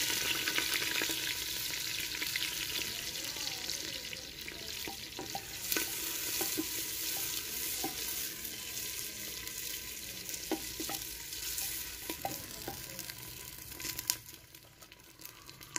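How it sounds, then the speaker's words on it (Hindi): Onions frying in a pan until brown make a steady, fairly quiet sizzle, with occasional soft clicks and scrapes from stirring, and no voices. "प्याज हमारा ब्राउन हो गया,"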